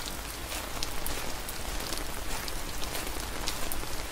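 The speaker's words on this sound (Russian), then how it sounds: "Звуки дождя по зонтику." Rain patters steadily and closely on an umbrella in a VR horror video game, a dense crackle of drops with no voices.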